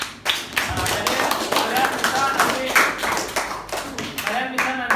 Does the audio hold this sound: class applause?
yes